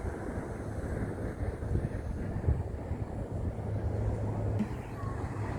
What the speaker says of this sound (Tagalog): Malakas na hangin kasi ang lakas na ng ano